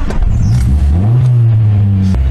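A car engine turns over and revs up loudly and close by, a steady low roar that rises in pitch and then holds, with no talk over it.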